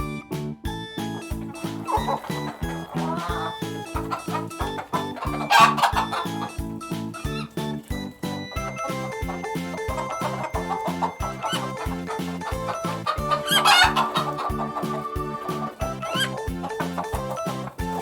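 Farm hen clucking in short repeated bursts over a steady, rhythmic backing track of children's learning music.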